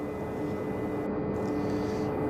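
An MD 500 helicopter in a flight simulator game gives a steady, loud engine and rotor drone throughout, with no talking.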